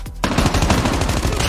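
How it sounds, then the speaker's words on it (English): Rapid automatic gunfire from a weapon in Call of Duty Mobile, a dense, loud stream of quick shots running almost without a break after a short lead-in. "see how I'm able to pop all these shots really quickly"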